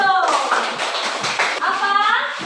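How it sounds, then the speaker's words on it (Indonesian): Classroom of pupils clapping for a classmate, a short burst of brisk applause with children's voices and chatter mixed in, loud and close throughout. "Tepuk tangan untuk Paldo"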